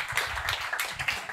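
Comedy show audience at a German stand-up night clapping, a short, fairly faint burst of scattered hand claps lasting just over a second.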